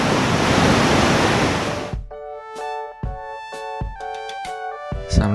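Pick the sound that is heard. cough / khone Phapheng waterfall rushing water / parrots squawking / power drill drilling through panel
khone Phapheng waterfall rushing water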